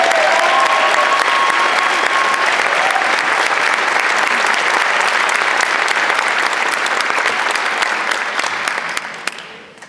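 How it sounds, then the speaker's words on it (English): Sustained loud applause from a graduation crowd honouring a retiring staff member at the Edgren High School Class of 2015 ceremony, steady clapping throughout that tapers off at the end. "she deserves a big round of applause"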